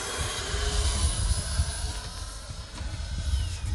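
A Freewing Me-262 twin 70mm EDF model jet flies past with a continuous whooshing ducted-fan roar and a high whine, holding steady and fairly loud, with slight surges as it passes.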